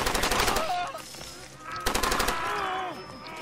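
Rapid machine gun bursts from Far Cry 2 rattle in two loud volleys, the second starting about halfway through, with game noise and brief voice-like tones between them.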